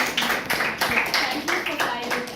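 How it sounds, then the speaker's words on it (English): Audience applause following a group business English presentation, a steady wash of many hands clapping throughout with some voices mixed in. "can we have a round of applause?"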